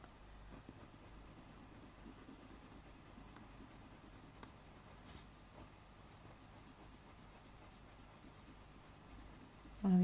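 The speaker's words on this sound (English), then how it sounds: "I'm using kind of a light to medium pressure here on my pencil." Hard pencil moves at light to medium pressure across Fabriano Tiziano pastel paper, a soft, continuous scratchy rubbing close to the mic, quiet and steady with faint strokes throughout.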